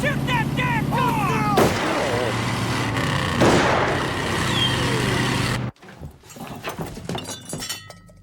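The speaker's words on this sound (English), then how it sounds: "Shoot that damn car!" Gunfire aimed at a fleeing car in the 1996 film Moonshine Highway: loud, close shots cracking over a running engine and shouting voices, then an abrupt cut to quieter engine and road noise.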